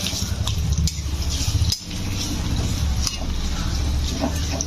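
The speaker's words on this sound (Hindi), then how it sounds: "एबे कटा होइतिबा पियाज को दबा एवं पियाज लाल होला पर्यंत" Chopped onions fry in hot mustard oil for a curd chicken fry, a steady close sizzle with scattered clinks of utensil on pan running nearly throughout, briefly dipping once.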